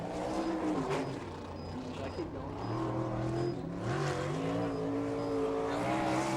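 Non-wing 305 econo sprint cars at a dirt track race, engines droning steadily at a distance with rising and falling pitch as they circle the track, continuous and moderately loud, with an announcer speaking over it.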